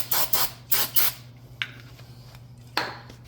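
Brief bursts of aerosol cleaner sprayed onto the front and rear wheel hub and brake parts of a 2018-2021 Chevrolet Equinox 2WD, four quick hissing blasts close by, then scattered small clicks and one last short spray.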